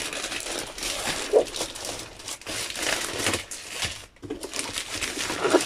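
Crinkling of matte plastic foil packaging being handled, with dense, continuous rustling and crackling close up, a few sharper crackles standing out, and no voice over it.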